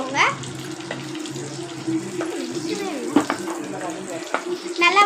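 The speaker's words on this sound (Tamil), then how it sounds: "நல்லா வதங்கி வரட்டும்." Green chillies sautéing in a pan for paneer butter masala give a steady hissing sizzle throughout, with scattered clicks and stirring scrapes close by.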